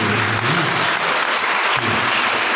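An audience at a quiz competition on the Indian freedom movement bursts into loud, close, continuous clapping, a thick unbroken roar of applause with faint voices underneath.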